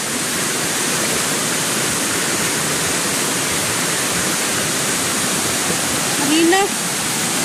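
A loud, steady roar of rushing water fills the whole stretch, with a brief whistle-like sound near the end.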